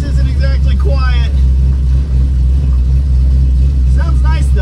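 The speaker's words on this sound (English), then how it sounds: "Yeah, this exhaust isn't exactly quiet." A freshly restored 1970 Plymouth with a big block V8 and four-speed manual rumbles loudly from a close, deep exhaust drone, while people talk over it inside the car.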